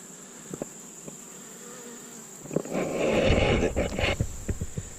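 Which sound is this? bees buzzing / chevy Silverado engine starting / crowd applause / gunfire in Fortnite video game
bees buzzing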